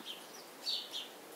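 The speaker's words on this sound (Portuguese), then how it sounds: "E ali os pardalzinhos se refrescando." Faint chirps and twittering from small birds, sparrows, ground doves and cowbirds, gathered at a pool to drink and bathe, heard at a distance over a soft outdoor hiss.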